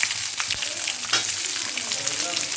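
Garlic and onion sautéing in a pan for chutney, a constant crackling sizzle with a few scraping stirs, close and fairly loud, with no voices.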